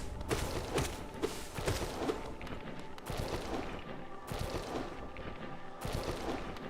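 Enemies bursting apart in Hollow Knight, a run of thumping, booming blasts that repeat every second or so, loud and close over dense game noise.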